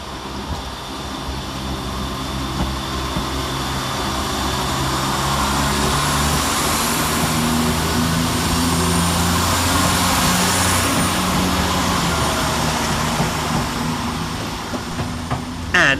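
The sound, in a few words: Northern Rail class 170 diesel train departing Leeds station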